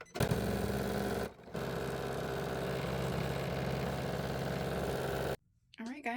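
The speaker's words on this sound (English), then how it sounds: "now it's just going to do a bean stitch all around that hole and all around the entire thing" An embroidery machine runs a bean stitch around a bag tag, a steady mechanical hum with a dense rapid stitching rhythm, briefly pausing once, then stopping near the end as faint handling noise follows.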